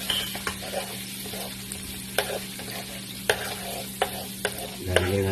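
Garlic sautés in melted butter in a pan with a soft, continuous sizzle, punctuated by several sharp utensil clicks as it is stirred, then a brief louder hiss at the end.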